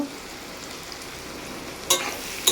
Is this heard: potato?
yes